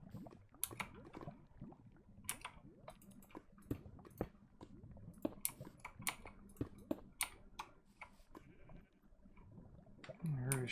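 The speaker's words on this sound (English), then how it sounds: "I heard a sheep." A sheep bleats in the blocky survival game Minecraft, a short wavering cry heard near the end, over quiet rapid keyboard typing and clicking.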